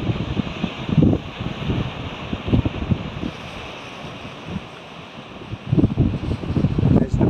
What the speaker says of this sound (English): Atlantic Ocean is roaring in.